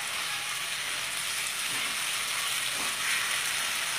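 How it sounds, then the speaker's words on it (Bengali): Continuous steady sizzle of fish head and cabbage frying in oil in a pan over a medium flame, with faint stirring scrapes, close and even throughout. "তারপরে কষবে।"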